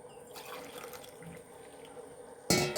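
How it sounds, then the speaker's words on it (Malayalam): Boiling water poured into rice flour, a soft steady trickling pour heard close and fairly quiet, ending in a brief louder splash. "ഇനി കുറച്ച് തിളച്ച വെള്ളം ഒഴിച്ച് കൊടുക്കാം കേട്ടോ"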